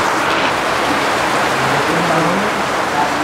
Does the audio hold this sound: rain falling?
yes